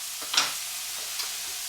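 Beetroots go into a hot pan with spices, giving one brief clatter and burst of sizzle followed by a soft, steady hiss and a faint second tick, close by, no talking.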